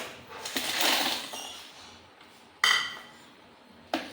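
Pieces of broken ice dropped into a blender jug for a banana shake, heard as a soft rattling slide followed by two sharp clinks, close but faint, without speech.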